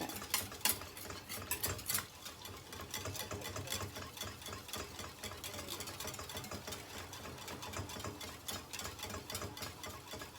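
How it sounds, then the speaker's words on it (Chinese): Starch paste for starching a cheongsam, stirred quickly in a pot over low heat: rapid, continuous scraping and swishing strokes close by, with a few louder knocks at the start. "快速的搅拌，下面还是小火"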